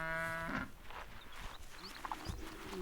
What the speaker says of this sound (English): The cattle don't even raise their heads.